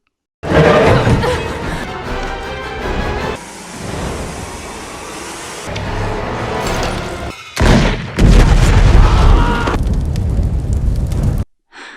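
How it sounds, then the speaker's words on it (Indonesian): A giant gas-filled balloon explodes in a film scene: a loud, sustained roaring blast with crackling fire and rumbling debris, surging again in a second heavy boom near the end. "balon raksasa itu langsung meledak besar"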